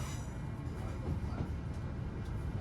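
A train on the Esk Valley Line approaching Battersby gives a steady, close interior rumble of wheels on track with a low, continuous drone, heard without talk throughout.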